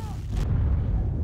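A low, rumbling burst of gunfire in the World War II shooter Day of Defeat, a heavy boom that carries on as a dull roar for about a second.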